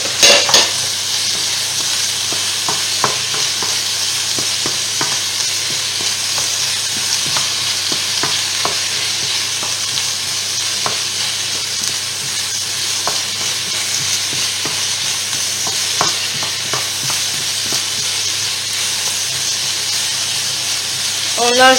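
Sliced leeks stirred in a hot pan while cooking, with a loud continuous sizzle and hiss of frying throughout and light scrapes of the stirring utensil scattered over the steady noise.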